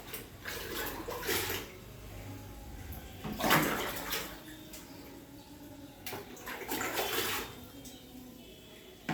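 A toilet flushing in a home bathroom gives several rushing surges of water over about nine seconds, moderately close, with quieter trickling between bursts and no talking.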